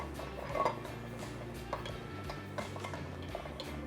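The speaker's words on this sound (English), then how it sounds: "Now we stir." Ice ticking and clinking against glass as a miso fat-washed bourbon cocktail with black walnut bitters is stirred, a close, light, irregular tapping with a brighter clink early on.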